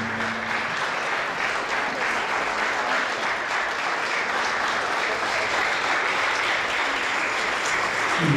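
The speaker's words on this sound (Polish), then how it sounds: "Brawa dla siostry." Sustained applause fills the hall at a Polish ball, a steady dense wash of many hands clapping at even loudness throughout, with no talk over it.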